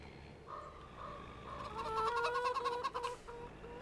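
Chickens in the video game Farming Simulator 25 clucking and squawking close by, a few short calls building into a busier, overlapping burst of clucks over low background noise.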